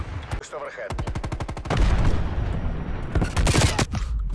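Call of Duty gunfire rattles in rapid automatic bursts, loud and close, with dense strings of shots and heavier blasts, while a voice briefly shouts over the firing.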